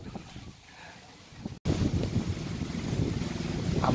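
Gusty stormy wind ahead of an approaching storm outdoors, a low roaring rush that drops out briefly and then returns louder and fuller, buffeting steadily with no talk.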